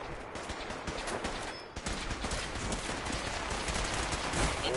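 Rapid, dense gunfire rattles in a Fallout 4 battle, sustained bursts filling the whole stretch loudly and close, with a brief dip partway through before the shooting resumes.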